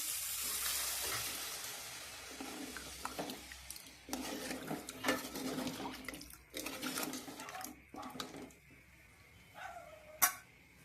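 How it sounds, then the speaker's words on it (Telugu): Water poured into a pan of frying chicken legs for a spicy tamarind-style curry, a steady sizzling hiss and splashing rush that fades in and out with stirring, ending in a sharp clink near the close. "వాటర్ అయితే పోస్తున్నానండి"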